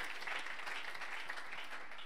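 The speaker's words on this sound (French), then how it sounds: "Somebody clap for the Lord." A church congregation at a Brussels revival service claps for the Lord, a steady, dense wash of many hands applauding together throughout, with no voices standing out.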